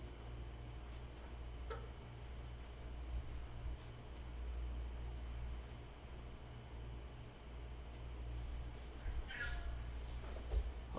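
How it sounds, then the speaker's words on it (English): Pet cat Roast Beef meows as he climbs into an IKEA bag, a few brief calls rising over a steady low hum and background noise. "Let me check in on my cat roast beef."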